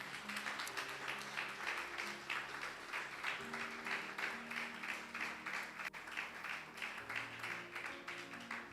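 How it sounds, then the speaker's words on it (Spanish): Steady congregational applause at a Spanish-language worship service, dense and sustained, with held organ or keyboard chords underneath and a murmur of voices. "le damos un aplauso al Señor"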